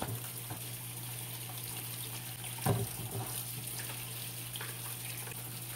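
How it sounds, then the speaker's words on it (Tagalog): Tap water runs steadily over bell pepper, carrots and potato being washed, a constant close hiss with one brief louder splash partway through. "huwag niyong kalimutan na hugasan ng bell pepper, ang carrots, and of course, ang ating potato"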